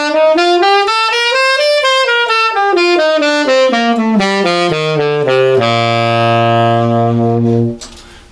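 A wind instrument plays a major scale exercise, running up and down in quick tongued and slurred notes with a clear, sustained tone, then settling on a long held note near the end.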